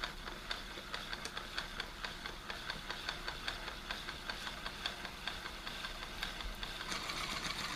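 A baitcaster reel cranked steadily as fresh fishing line winds onto its spool, giving a close, continuous mechanical whir with faint rapid ticking, heard alone.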